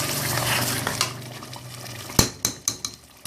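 Mutton paya being fried with onion paste in a pot, with busy clattering of a utensil against the pan and sharp metallic scrapes and knocks over a soft background sizzle.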